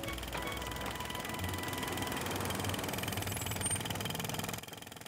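A cartoon car engine runs steadily through a drive, a low continuous rumble with mechanical vibration that holds even and loud before dropping off abruptly near the end.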